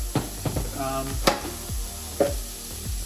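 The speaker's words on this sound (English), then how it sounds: "I'm going to let that sizzle." Food sizzles steadily in a hot pan, with a few sharp clanks and stirring knocks breaking through the crackle.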